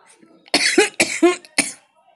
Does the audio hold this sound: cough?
yes